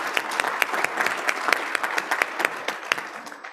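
A meeting audience gives a round of applause, dense hand clapping with sharp individual claps standing out, steady and fairly close throughout.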